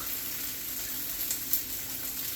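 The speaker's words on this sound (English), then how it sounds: "I'm going to start the vegetables going. And I'm just going to dump them in all at once, but I'm going to give them a good shot of oil" Red pepper, onion and carrot sizzle in oil in a new Babish wok, a steady, fairly quiet frying hiss with no one speaking.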